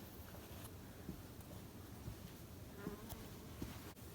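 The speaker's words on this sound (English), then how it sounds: "16 to 1700 hives. Roughly 15 million bees." A dense, steady buzzing of honeybees from 1,600 to 1,700 hives, a quiet droning roar with occasional individual insects flitting close by.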